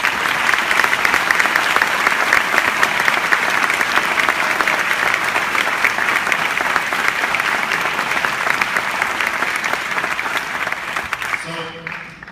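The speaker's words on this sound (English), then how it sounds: "So let's give them an applause." Sustained applause from a commencement crowd for the class of 2015, a dense steady roar of many hands clapping for about eleven seconds before tapering off at the end.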